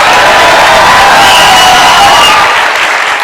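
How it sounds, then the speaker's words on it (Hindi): A live audience in a Hindi-language gathering cheers loudly and claps together in a dense, continuous roar that holds steady, then eases slightly toward the end. "एक बार जोर से चिल्ला के ताली हो जाए"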